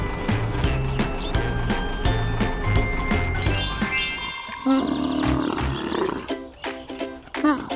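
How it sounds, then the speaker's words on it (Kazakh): A camel gives a rough, roaring groan, partly buried under loud, steady background music with clicking, ratchet-like effects. "Түйе."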